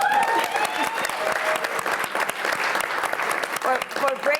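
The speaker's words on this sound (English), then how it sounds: "I think we should give Peggy Clark a round of applause" Applause from an evening panel audience fills the hall, with close, crisp claps over a broad wash of crowd clapping and a voice speaking through it.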